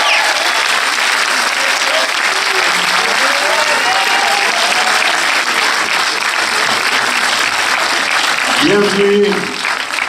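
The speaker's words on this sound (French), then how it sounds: "Allez, c'est Marseille qui les applaudit très fort" A crowd at a film premiere in Le Prado cinema, Marseille, claps loudly and steadily for about ten seconds while a presenter talks over the applause through a microphone.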